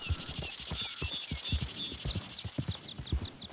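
Horse hooves in Red Dead Redemption 2 clop in a quick, even rhythm for a few seconds while high whistling tones sound above them.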